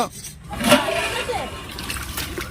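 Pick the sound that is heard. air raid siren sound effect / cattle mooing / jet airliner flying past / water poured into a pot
water poured into a pot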